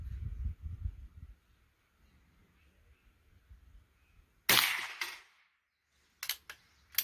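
A .22 Remington #4 rolling block rifle fires outdoors, a sharp crack followed by metallic clanks as heavy steel plates are struck and knocked down, with further quick impacts shortly after.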